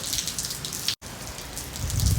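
Heavy rain falling on a back porch makes a loud, continuous hiss of drops with a brief gap midway, and a low rumble builds toward the end.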